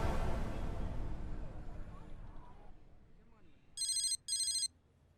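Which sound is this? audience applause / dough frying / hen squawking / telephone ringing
telephone ringing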